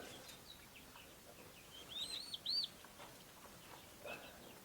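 Newly hatched chicks settled in a brooder give a few faint, brief high chirps amid quiet background noise.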